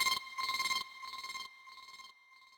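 Flutter effect from the iZotope Iris 2 plugin in a hard trap beat made in FL Studio: a shimmering, pulsing synthetic tone in several fading bursts, quieter with each repeat, alone without talk.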